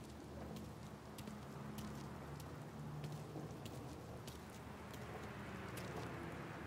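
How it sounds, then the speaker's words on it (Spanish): Steady rain pours down in a night scene from Mafia III, a dense, constant hiss that fills the background with faint low rumbling underneath and no voices. "Estoy hasta las narices de la lluvia."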